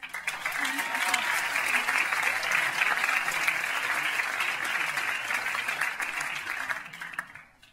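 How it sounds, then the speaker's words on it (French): Sustained audience applause at a solo semi-final of an amateur singing contest, a dense steady roar of clapping that holds for most of the stretch before tapering off at the end. "on applaudit Sébastien."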